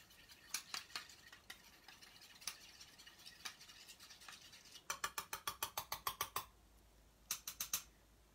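A quick stir of a mixture in a small container while painting with watercolors, heard as light, sharp clicks and taps of a utensil against the sides, scattered at first, then a fast run of rapid strikes and a short burst near the end.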